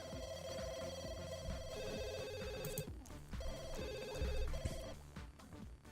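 A telephone rings in the video game The Sims 2, a repeated electronic ring pattern in bursts over background game music, with no one speaking.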